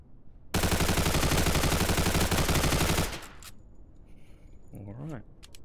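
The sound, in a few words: gunfire from a 9mm gun in a video game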